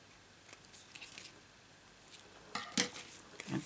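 Scissors snipping through a piece of card for a stamped bridge pop-up box card, a few quiet scattered cuts at first, then a cluster of sharper, louder snips toward the end, close and alone.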